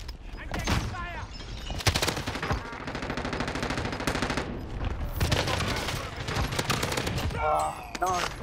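Rapid bursts of PKM machine gun fire in a first-person shooter match on Alcatraz, loud rattling volleys repeating through the clip while a player talks over the gunfire.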